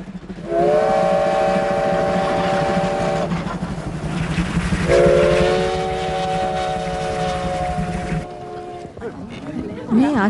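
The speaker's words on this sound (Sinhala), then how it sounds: "තාත්තේ, කෝච්චි එනවා." An approaching train sounds two long, loud whistle blasts over a steady rumble, the second blast following a short gap.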